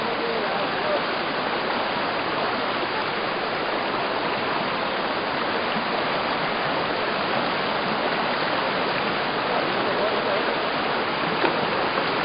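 A flooded river rushing near Purbakhola during monsoon flooding and landslides, a loud, unbroken roar of fast churning water filling the whole scene without pause.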